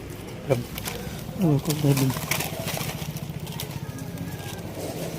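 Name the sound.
birds calling in a village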